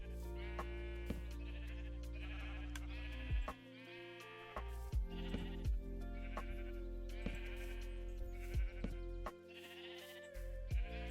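Several sheep in the Minecraft video game bleating in repeated overlapping calls, clear and close against a low constant hum, with short gaps between bursts.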